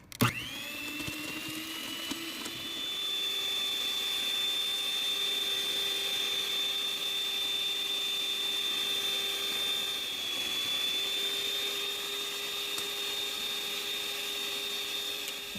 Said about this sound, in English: In the stand mixer with the paddle